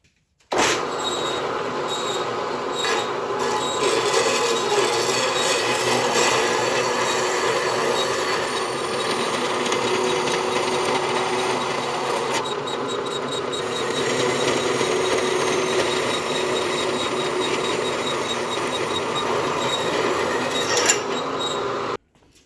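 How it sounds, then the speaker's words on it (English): A portable bandsaw held upright grinds tabs off metal on a 1994 Mustang suspension, running as a continuous loud, steady whine with a gritty edge for about twenty seconds before cutting off. "put this bandsaw in the upright position, and it should make pretty short work of filing those tabs off"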